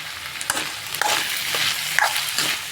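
Radish gravy masala fries in oil in a pan, a close, continuous sizzle broken by a few sharp stirring clicks and scrapes.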